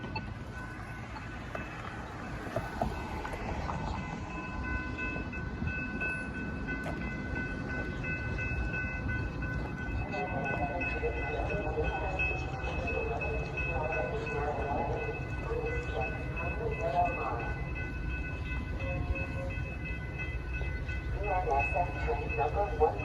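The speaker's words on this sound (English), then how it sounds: "Train is approaching. Clear tracks immediately." A train rumbling into a station at Downers Grove with steady rolling noise and a sustained tonal horn-like drone, clattering wheels growing louder toward the end.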